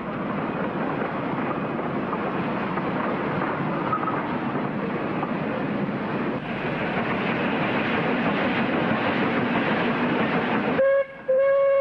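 A train rumbles steadily along the rails with a dense, continuous roar, then near the end a sustained horn-like tone cuts in over a sudden drop in noise.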